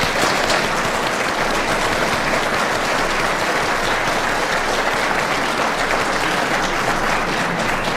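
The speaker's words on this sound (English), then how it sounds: "You can give yourselves a round of applause." Audience at a live gubernatorial debate in Narok gives a sustained round of applause, dense and even throughout, with no talk over it.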